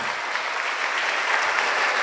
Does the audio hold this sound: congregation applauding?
yes